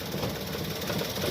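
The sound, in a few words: Maruti Alto K10 car engine misfiring while revving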